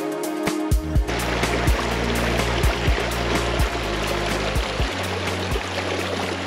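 A mountain stream rushes and gurgles steadily close by, a continuous broadband flow, with a few deep tonal thumps and notes layered over the top.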